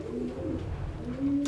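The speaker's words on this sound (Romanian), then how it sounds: "Sunt porumbei scoși din cei de la matcă, cei de la reproducție." Young racing pigeons from breeding pairs coo softly in a loft, low repeated calls close by, with a brief burst of rustling at the end.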